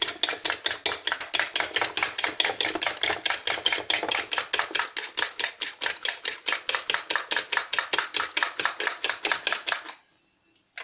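Eggs being whisked in a bowl for a quick potato sandwich, rapid regular clicking beats of the whisk repeating for about ten seconds close by, then stopping abruptly.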